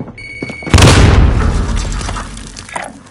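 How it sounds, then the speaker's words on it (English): In a video game, a thrown grenade goes off with a loud, deep boom and a brief crackling burst, and a long rumbling tail follows that fades slowly. A few faint electronic tones sound just before the blast. "Throwing grenade."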